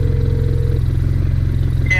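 A snowmobile engine idles steadily up close, a low, even putter with a regular pulsing rhythm and a brief clatter at the very end.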